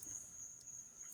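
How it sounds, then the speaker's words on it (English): Crickets and cicadas chirp steadily outdoors, a faint continuous high-pitched drone with no speech over it. "If you're hearing noises besides the crickets and cicadas,"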